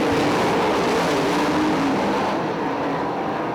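Sprint cars race on a dirt oval at Crystal Motor Speedway, one loud engine roaring close by and holding a steady drone as it pulls away down the back straightaway, with no voices.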